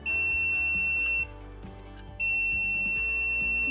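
A voltage tester beeping while its probe touches a neutral wire, a loud sustained electronic tone that cuts out for about a second and then resumes, close up with no talking.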